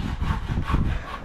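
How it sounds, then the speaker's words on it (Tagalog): Hand saw cutting through wood in steady back-and-forth strokes, rasping and close, with a rhythmic rise and fall in each stroke. "Pwede na po sa lagari."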